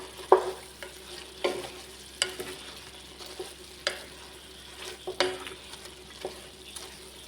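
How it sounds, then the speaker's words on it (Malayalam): Chicken curry with chicken masala is stirred in a pan, a spoon scraping in a steady rhythm of soft knocks and scrapes over a low background sizzle, close and fairly quiet. "കുറച്ച് ചിക്കൻ മസാല കൂടി ചേർത്ത് വേണം മിക്സ് ചെയ്ത് വെക്കാനായിട്ട് ഇളക്കിയിരുന്നു നോക്കാം"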